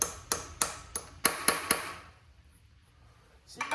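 Sharp metallic strikes ring out six times in an uneven rhythm, each a bright clanging tap of a hammer on a steel punch set against a stuck bolt on a K-30 truck during a small-block Chevy swap, followed by quiet.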